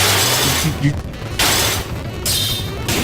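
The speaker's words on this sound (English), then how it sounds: "you're just shattering glass" Glass shatters during a break attack animation in Fate/Extra, several loud bright crashes in quick succession over a low battle rumble.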